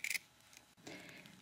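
Scissors snip quilt fabric corners in a quiet room: a quick crisp cut at the start, then a softer rustling snip a moment later.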